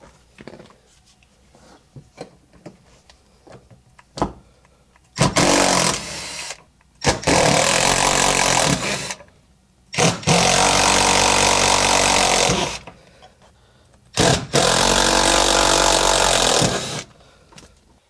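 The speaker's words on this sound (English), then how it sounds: "we're going to use a 7/16 socket to remove each of the bolts" A tool runs in several loud buzzing bursts of about two seconds each while bolts come out with a 7/16 socket on a 1966 Mustang's automatic gear shifter, with quiet clicks and handling noises between the bursts.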